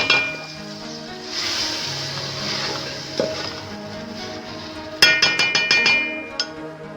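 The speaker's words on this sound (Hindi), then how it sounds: "ये मसाला हमारा अच्छी तरह से फ्राई हो चुका है।" Masala with ginger garlic paste and salt frying in a pan for mutton tikka biryani, a soft steady sizzle with faint stirring, ending in a quick run of sharp clinks from a utensil striking the pan.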